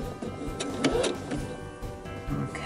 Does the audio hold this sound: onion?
no